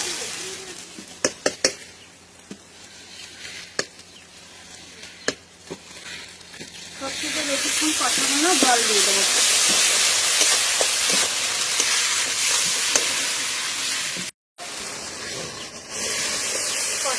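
Mustard paste being fried in spiced oil for a fish dish, a loud close sizzle and hiss that rises partway through and continues with stirring, after quieter clinks and taps.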